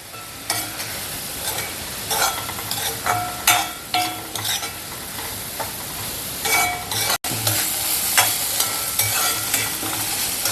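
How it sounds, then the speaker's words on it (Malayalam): Cucumber pachadi is stirred in a hot pan, sizzling steadily up close. A utensil gives repeated rhythmic scraping strokes over the constant frying hiss. "ഇച്ചിരി നേരം ഇങ്ങനെ ഇളക്കിക്കൊണ്ടിരിക്കുക"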